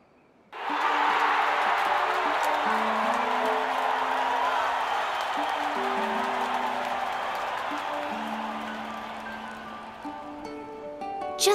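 Video game crowd in Octopath Traveler 2 cheering at a contest, a loud broadband roar with applause and whoops that starts abruptly and holds steady throughout, while tonal game music plays underneath.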